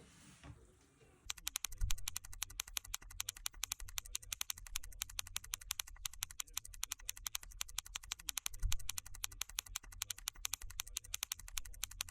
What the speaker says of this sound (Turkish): Hızlı bir şekilde klavyemizi sökelim ve K keplerimizi değiştirelim.